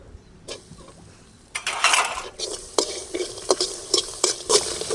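Grated coconut roasting in a pan with cumin seeds, stirred with a spatula so the pan scrapes and rattles in repeated strokes over a soft sizzle, close and fairly loud with no talking.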